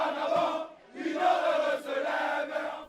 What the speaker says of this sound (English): an election is erased to thunderous applause